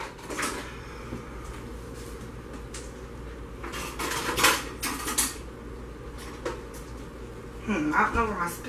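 Cutlery and kitchenware clattering as someone rummages for spoons while making oatmeal milk and honey soap, intermittent metallic clinks and knocks in quick bursts, with talking in the room.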